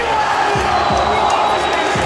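Spectators at a Long Beach Guardians versus FDNY charity hockey game make a steady roar of crowd noise with scattered shouts and low thuds, a continuous broad wash throughout.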